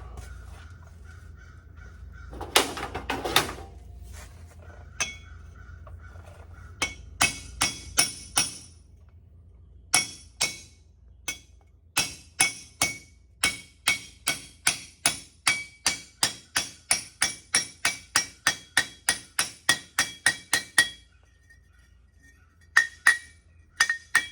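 A hammer taps a 42 mm axle bearing into place on a Honda Foreman 500 ATV. The run of sharp metallic strikes, heard alone, starts sparse and settles into a steady, quick rhythm of about thirty close, bright taps.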